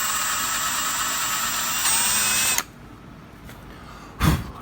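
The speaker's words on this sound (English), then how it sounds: "I'm going to drill that down a little bit to get rid of it with a 1/2 inch drill bit" A power drill with a 1/2 inch bit grinds down a plastic nub on a car emblem, a close, whining run of about two and a half seconds that stops abruptly, followed by quiet and a short scrape.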